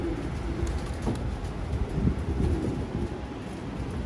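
Pigeons coo at a Japanese loft, a soft repeated burbling heard close by over light wind noise on the microphone, with no speech.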